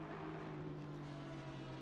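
Aston Martin V8 engine in a sim racing game at Paul Ricard, a steady low drone with a sustained harmonic tone holding an even pitch throughout, moderately loud with no talk over it.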